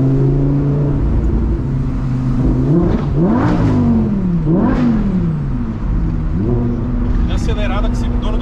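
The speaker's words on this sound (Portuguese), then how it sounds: "Eu tô acelerando pra pegar a estradinha" A Lamborghini accelerating and revving along a road, its engine note rising and falling in repeated surges, loud and steady throughout, with music and voices running over it.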